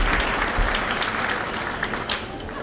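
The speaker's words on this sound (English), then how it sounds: "I think that deserves an applause" Audience at an awards luncheon clapping, a dense burst of applause from a crowd in a hall, steady and fairly loud, thinning slightly toward the end.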